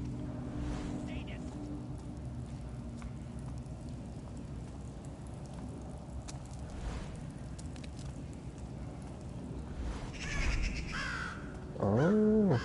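Crows caw several times in the Thief video game, harsh calls over a steady ambient game background, with a voice briefly heard near the end.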